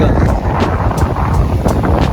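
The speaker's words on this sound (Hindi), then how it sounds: "इतनी तेज़ी हवा चल रही है भाई" Strong wind blows at the Shore Temple in Mahabalipuram as rain approaches, roaring steadily and buffeting hard against the microphone for the whole moment.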